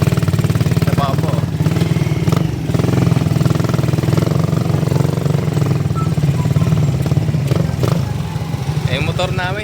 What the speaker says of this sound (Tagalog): Yung motor namin hindi ito para dito eh.